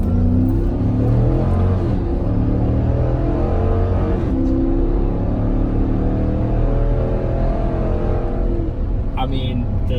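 A heavy Hemi-powered SUV accelerates hard under full throttle, its V8 engine and exhaust droning loudly and steadily throughout, with a speaking voice running beneath the engine noise.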